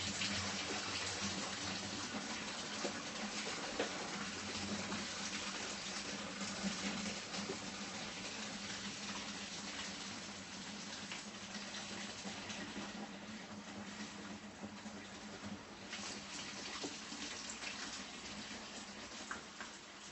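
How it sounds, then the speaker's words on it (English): Liquid pouring steadily into a beer fermenter while brewing a Festa Brew brown ale kit at home, a continuous rushing splash that holds fairly level for about twenty seconds with no talk. "And start pouring."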